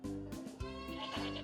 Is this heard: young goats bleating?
yes